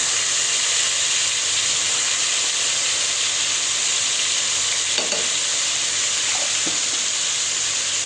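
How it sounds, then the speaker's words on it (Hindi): Two tablespoons of garlic sizzling steadily in hot oil, a loud, constant close-up hiss broken by a couple of faint clinks. "जैसे ही ऑयल गर्म होगा हम इसमें 2 टेबलस्पून भर के लहसुन का डाल देंगे।"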